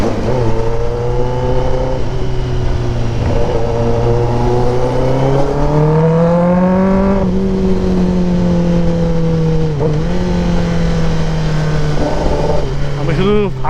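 A Kawasaki ZX10R superbike engine revs and accelerates close by, its pitch rising and falling in steady pulls across the whole stretch, loud and continuous under faint chatter.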